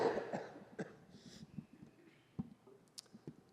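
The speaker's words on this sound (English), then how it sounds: "I'm going to have to cough for a second." A few quiet coughs and throat-clearing sounds close to the microphone, scattered over a few seconds with soft breathing in between.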